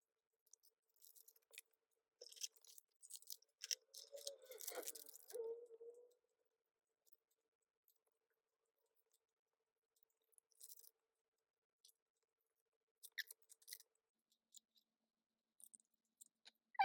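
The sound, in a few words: re-sleeving photocards in plastic sleeves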